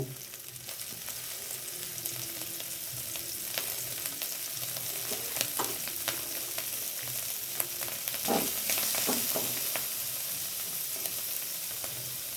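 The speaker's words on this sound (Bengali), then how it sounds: "এই কুচো চিংড়ি একটু ভেজে নেব।" Small shrimp fry in a pan with a continuous close sizzle, joined by occasional stirring scrapes and spattering pops, and no one speaking.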